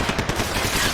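Rapid gunfire from Max Payne 3, dense and continuous bursts filling the whole moment, loud and close with no clear pauses between shots.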